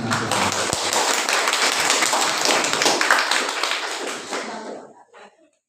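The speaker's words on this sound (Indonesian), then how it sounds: "Berikan aplaus yang meriah untuk kelompoknya Tasya." Classroom students clapping for a group after their presentation, a dense burst of hand claps that holds steady for several seconds, then thins and fades out.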